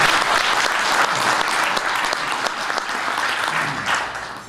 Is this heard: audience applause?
yes